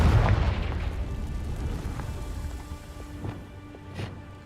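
Confringo fire spell from Hogwarts Legacy, a heavy explosive boom at the start that rumbles and fades, followed by a couple of softer thuds and a ringing tone.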